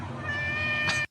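A cat meows once from a played online video, a single drawn-out tonal meow that rises at the end and cuts off abruptly after about a second, with no talk over it.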